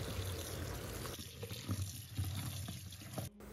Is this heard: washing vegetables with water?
yes